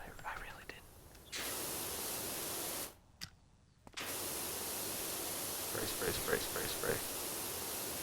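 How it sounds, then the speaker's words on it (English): A pressure washer sprays in Power Wash Simulator, a steady broadband hiss that cuts out briefly and resumes with a loud, continuous rush, with faint voices underneath. "Spray."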